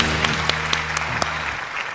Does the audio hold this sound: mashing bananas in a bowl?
no